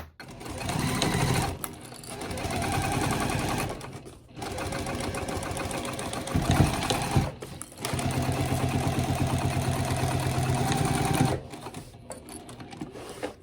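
A sewing machine stitches a zippered pouch with a recessed zipper in bursts of steady running stitching, broken by a few short pauses, close and fairly loud.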